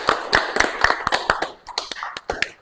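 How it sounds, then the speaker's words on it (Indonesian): A classroom applauds for Ciko, an uneven patter of several people clapping close by that thins out toward the end. "Kasih tepuk tangan buat Ciko."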